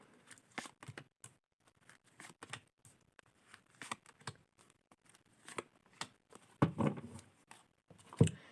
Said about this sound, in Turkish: 5 tane kart seçeceğim.